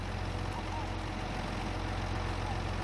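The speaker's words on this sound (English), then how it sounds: "Probably should turn off the engine so not waste so much fuel" A tractor engine idles in Farming Simulator 25, a steady, low, rumbling drone that holds constant and fills the background without pause.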